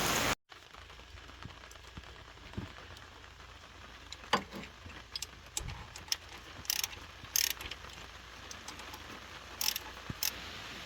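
A ratchet wrench tightens the bolts on a Jeep Grand Cherokee 4.0 timing cover, giving soft, irregular clicking bursts close by in a quiet garage, with no talking.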